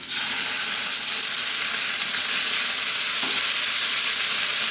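Beef and onions stir-fry in a Chinese wok with sriracha and oyster sauce, giving a loud, steady, close sizzle that hisses without a break. A faint stirring scrape comes partway through.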